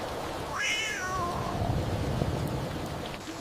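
A cartoon cat gives a rising, drawn-out meow that dips into a wavering tail, heard alone over a steady wash of heavy rain and rumbling storm noise.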